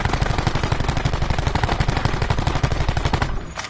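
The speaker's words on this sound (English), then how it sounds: "I'm gonna shoot it again" Rapid automatic rifle fire from Call of Duty Black Ops 4, a loud, continuous burst of closely spaced shots lasting about three seconds before cutting off.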